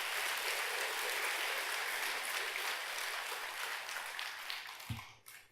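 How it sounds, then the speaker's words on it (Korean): Quiet, steady applause from a temple congregation at a Sunday Buddhist service, a wash of many hands clapping at a distance before it thins out near the end. "공감하면 박수 한번 쳐보세요."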